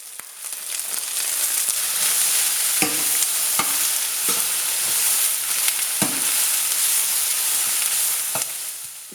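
Peppers, red onion and garlic sauté over high heat for a vegan ropa vieja, giving a steady, dense sizzle throughout with a few sharp stirring scrapes of the utensil in the pan. No talking.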